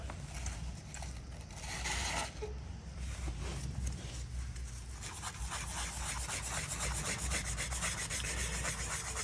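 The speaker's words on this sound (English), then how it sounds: "we're going to begin scrubbing with our Scour pad" A scour pad scrubs rust off a wrench in a continuous, close, coarse rubbing sound with a steady back-and-forth texture that lasts throughout.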